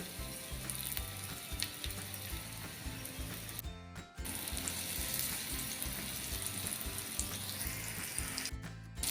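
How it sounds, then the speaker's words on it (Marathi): Steady, loud sizzling of fish frying in hot oil in an iron pan, a dense crackle running throughout with a brief dip partway through. "आता तव्यामध्ये जेवढे मी मासे आहेत ना जेवढे राहतील तेवढे मी हे फ्राय करून घेणार आहे"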